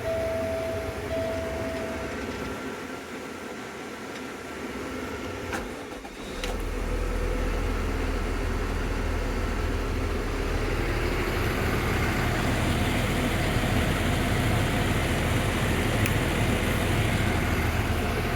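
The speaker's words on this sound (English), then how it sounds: "All right, let's start the truck." A Peterbilt box truck's push-button start with Paccar engine: a brief crank, then the engine catches and settles into a loud, steady low idle that continues unbroken.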